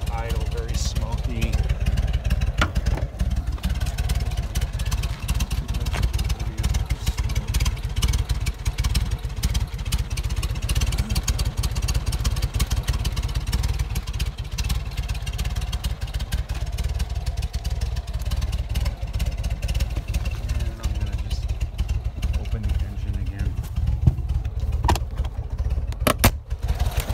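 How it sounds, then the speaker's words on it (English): A car engine idles rough and low, giving a steady close rumble with uneven clatter throughout, and the car is smoking. "it's the same kind of crappy idle, very smoky"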